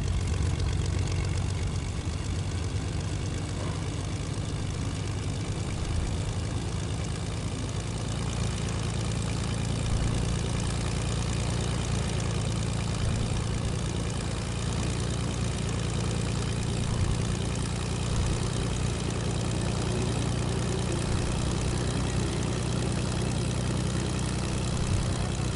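A small propeller plane drones steadily in a retro video game, a constant low engine hum that runs unbroken throughout with no voices.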